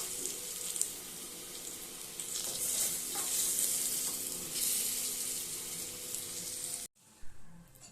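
Potatoes fry in oil with salt and turmeric for a Bengali fish curry, giving a soft, continuous sizzle that is fairly quiet and close and stops abruptly near the end.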